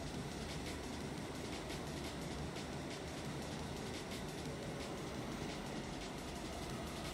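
A fast R68 subway train runs in Trainz Railroad Simulator 2019, giving a steady, continuous rumble with faint rail clatter that holds an even level throughout, with no talking.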